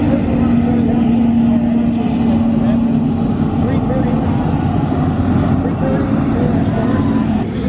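A hydroplane race boat's Apache-type turbine engine gives a steady loud jet-like whine and roar at the 2018 Hydrofest on Lake Guntersville, sustained throughout with no break.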